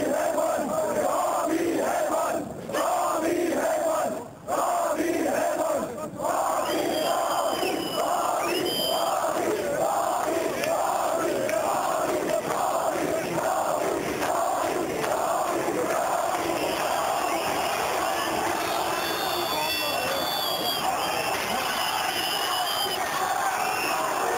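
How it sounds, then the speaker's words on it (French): A hostile crowd masses outside in East Germany during the fall of the Berlin Wall, chanting and shouting in a loud, rhythmic, sustained roar from many voices that swells and pulses steadily. "Entre-temps, une foule hostile se masse à l'extérieur."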